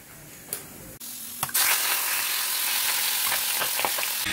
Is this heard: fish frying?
yes